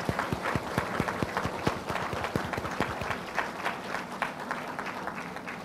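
An audience at a Buddhist teaching event at Rainbow Temple applauds, a steady mass of clapping with some sharper individual claps standing out, sustained evenly throughout.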